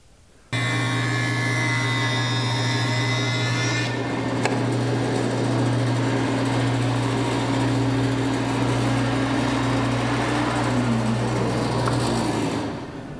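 A stationary wood jointer with a helical cutter head runs with a steady, loud motor hum and whine while a board is planed along its edge. A continuous cutting rush holds for about twelve seconds before the machine winds down.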